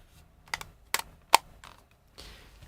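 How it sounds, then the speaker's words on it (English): A few quiet plastic clicks and taps, spaced apart, then a soft rustle, like buttons pressed and a small casing handled up close. "I feel the remote control for my air conditioner."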